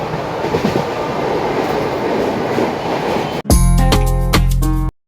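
Inside a moving mail express train, a steady broadband rumble and rattle of the carriage continues, then gives way abruptly to a loud, sustained tonal passage for the final second and a half; no one speaks.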